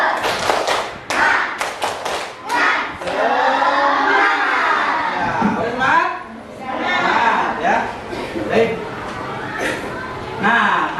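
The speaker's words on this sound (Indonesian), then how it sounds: "Tepuk semangat." A classroom of students does the tepuk semangat spirit clap. Quick bursts of rhythmic clapping are interleaved with a lively chant sung together, loud and close, filling the whole stretch.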